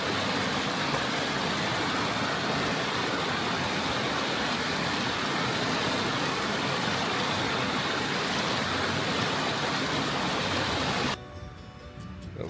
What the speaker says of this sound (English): Cool little waterfall right in there.